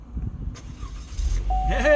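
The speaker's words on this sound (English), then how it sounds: "going to start the vehicle, see if we've got power" A car engine cranks and catches in a workshop, with a rising whir and then a steady tone as it fires up at the end, close by, while a person talks over the start.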